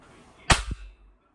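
A single sharp crack from an imported air gun fired in a shop, loud and close, followed by a brief smaller mechanical clack and quick decay into quiet.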